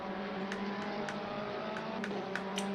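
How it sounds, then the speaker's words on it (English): Race cars from the racing sim Le Mans Ultimate, including a Ferrari, drone steadily in a pack at Portimao, with engine notes holding and shifting and brief gearshift ticks through continuous engine roar. "I also turned up the volume a little bit so you guys could hear the cars just a bit more."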